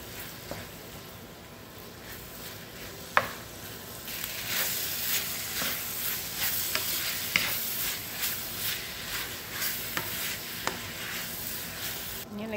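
Ground beef giniling with potatoes, ketchup and seasoning sizzles in a pan as a spoon stirs it, giving steady frying hiss broken by soft scraping and occasional sharp clicks, close and moderately quiet.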